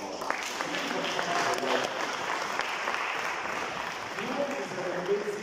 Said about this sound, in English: Can you give a clap for God?